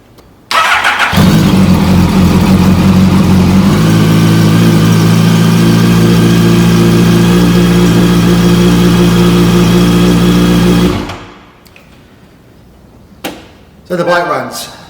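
A Yamaha FZ8 motorcycle engine cranks, catches and runs at a steady, loud idle for about ten seconds before cutting off, followed by quieter handling noises and a short clunk near the end.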